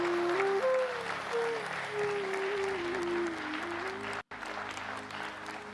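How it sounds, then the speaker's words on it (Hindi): Applause from a crowd at a religious-themed public event, broad and steady beneath a sustained musical tone, with a brief dropout near the end. "अटल जी के लिए तालियां बजनी चाहिए"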